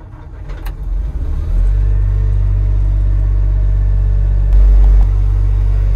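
A heavy machine's engine starts up and settles into a loud, steady low rumble after its fault codes are cleared, with a brief rise in intensity near the end.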